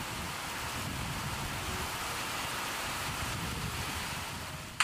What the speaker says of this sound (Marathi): बाहेर मस्त असा पाऊस सुरू झालेला आहे.